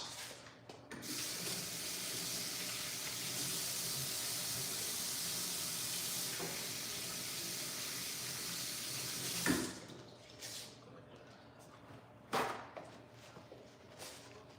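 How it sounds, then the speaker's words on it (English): Hands are washed under a running kitchen tap, a steady close hiss of flowing water that stops partway, followed by a few splashes and shaking sounds. "I'm just gonna wash."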